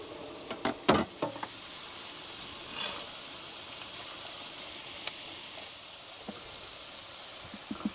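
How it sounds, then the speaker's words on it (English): A soft, steady sizzle of onions frying in a pan, with a few sharp clicks and pops near the start and scattered light taps. "chop some onions, and they're going to have a fry. Oh, good sizzle."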